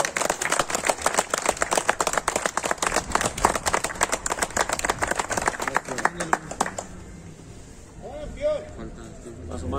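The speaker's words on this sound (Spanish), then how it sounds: "vamos a darle un aplauso a él" Applause from an audience at a religious town celebration honoring festival stewards and master pyrotechnic artisans, brisk dense clapping for about six seconds that tapers off, followed by a quieter stretch with faint voices.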